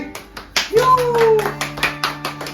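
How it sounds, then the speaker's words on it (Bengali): Soft, steady hand clapping from a small family group at a 35th wedding anniversary celebration, where parents receive a land deed as a gift. The quick, regular claps run alongside a voice and other chatter. "আস্তে করে হাততালি সবাই।"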